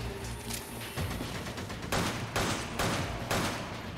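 Machine gun fire in Resident Evil 5, several loud sustained bursts of rapid automatic shots in the second half over steady background game noise, with no talking.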